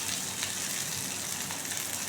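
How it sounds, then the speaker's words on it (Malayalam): A medium-sized onion sautéing in a pan gives a steady, even sizzle with a soft hiss that holds throughout, close and moderately loud, with no talking. "ഒരു മീഡിയം സൈസ് ഉള്ളി കേട്ടോ, ഇതിലേക്ക് ആഡ് ചെയ്യുക. എന്നിട്ട് നന്നായി ഒന്ന് വഴറ്റുക"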